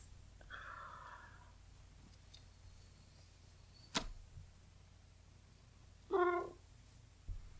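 A tomcat meows indoors, with a short call near the start and a louder, clearer meow toward the end, separated by quiet room tone and one sharp click.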